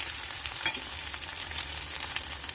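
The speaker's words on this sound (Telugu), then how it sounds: "ఇప్పుడు అల్లం, పచ్చిమిర్చి వేసేసుకోవాలి." Ginger and green chillies sizzle and crackle in hot oil in a pan, a steady close frying hiss with small pops and a brief stirring clink.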